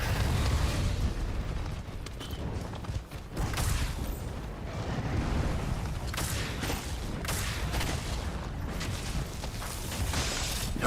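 Sustained video game gunfire as a magazine is emptied, dense rapid bursts and booms packed together, loud and chaotic throughout with no voices.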